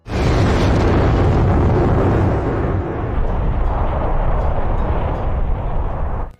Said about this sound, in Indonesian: Tapi Akame bisa selamat berkat Leone yang menahan ledakan memakai tameng